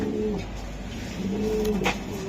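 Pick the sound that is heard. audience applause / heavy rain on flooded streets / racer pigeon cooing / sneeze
racer pigeon cooing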